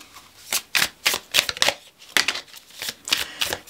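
Oracle cards being shuffled up close, a quick run of crisp riffling bursts in an uneven rhythm with brief pauses between, with no talking.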